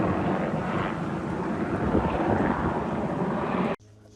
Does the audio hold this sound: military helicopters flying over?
yes